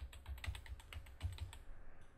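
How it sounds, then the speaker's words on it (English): Rapid, uneven keystrokes on a computer keyboard, typed while playing the game Modern Shooter, a close clatter of taps with a few heavier presses and no talking. "I get one health for each time I type regenerate"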